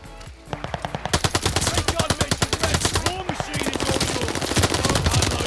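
A modded MP40 submachine gun fires in a video game, loud rapid automatic bursts of close gunshots in quick rhythmic succession with a short pause, voices faintly underneath.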